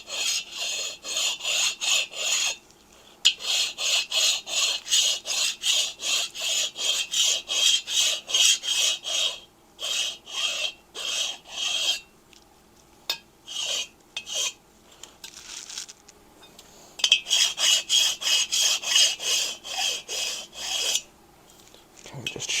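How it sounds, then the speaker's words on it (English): Hand file rasping the powder-coated edge of 1972 Harley-Davidson XLCH Ironhead Sportster cylinders, rapid rhythmic back-and-forth scraping strokes in quick bursts with short pauses between runs, close and fairly bright. "Just a couple passes on the edge of the cylinders to cut down any of that hard tape line edge"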